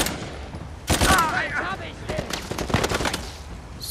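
Sniper and other gunfire in Uncharted 4 gameplay: a sharp loud shot followed by several irregular cracking bursts over a few seconds, with game effects underneath.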